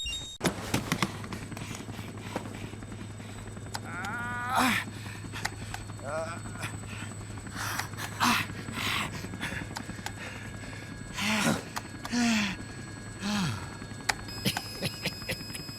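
Hooves clip-clop in a steady walking rhythm, with a horse's whinny and Metal Gear Solid Peace Walker game sound effects over a constant low hum.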